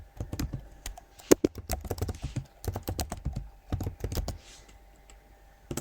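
Someone types quickly on a computer keyboard during a tutorial on editing text for a Cricut Joy project: close, crisp irregular key clicks in bursts with short pauses, no talking.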